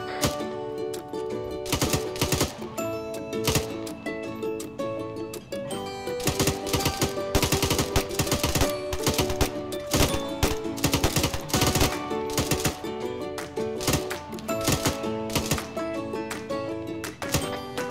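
Platoon gunfire in a military field training exercise: many rapid sharp shots in bursts, near and loud, almost continuous across the whole stretch with brief gaps and no talking.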